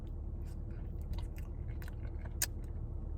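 Close-up chewing of a crunchy licorice-coated ice cream from Finland, with soft irregular crunches and a couple of sharper bites over a low steady background rumble, with no talking.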